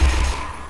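Rapid gunfire bursts from the first-person shooter Black Mesa, a loud, dense volley with heavy low thumps that thins out after the first half-second.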